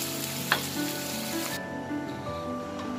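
Chicken liver with spices fries and gets stirred in a pan, a dense steady sizzle with a sharp spatula scrape early on and light clinks, close and continuous, no talking.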